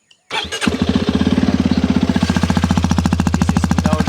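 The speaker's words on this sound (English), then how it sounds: "at the final click your engine will start" A Hero Xpulse 210 motorcycle engine cranks with a few clicks, then fires up and settles into a loud, steady, rapidly pulsing idle close to the microphone.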